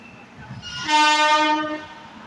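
An AC double-decker passenger train's horn blares once for about a second over the low rumble of the passing train, loud and fairly close.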